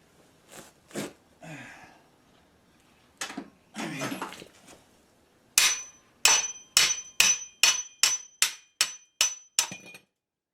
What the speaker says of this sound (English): I'm going to knock this hub out of my backing plate